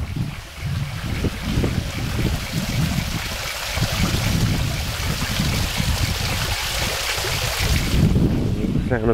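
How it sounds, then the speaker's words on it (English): Steady rushing water fills the night scene, with a dense chorus of frogs mixed in and low, uneven rumbles throughout, on a misty night after light rain. "Sound of frogs and flowing water tonight."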